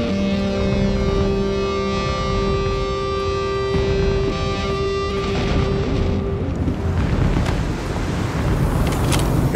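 Spaceships taking off in the Star Citizen video game, steady whining engine tones fading away into a windy, rushing roar, no voices.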